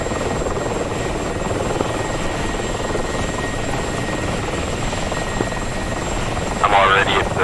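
A helicopter taxiing in the DCS flight simulator during a Cyprus campaign mission: a steady, droning turbine whine with a constant rotor hum throughout, and a brief buzzy flutter toward the end.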